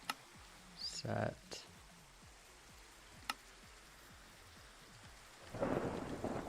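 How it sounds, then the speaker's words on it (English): Thunderstorm with steady rain in the video game Minecraft, soft background hiss of rainfall with a couple of brief thunder cracks and a swell of rumbling near the end, low in level. "Oh, it's a thunderstorm."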